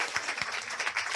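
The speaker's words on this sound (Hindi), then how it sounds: "जोरदार ताली बजाकर प्रभु को महिमा देंगे" A worship congregation claps loudly at a Sunday service, a dense continuous wash of hand claps with a few stronger individual claps standing out, steady throughout.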